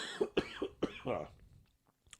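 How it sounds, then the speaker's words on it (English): A man coughs several times in quick succession, close and fairly loud, ending in a throat-clearing rasp that trails off into quiet during a podcast conversation. "can't believe I held off that long before I coughed."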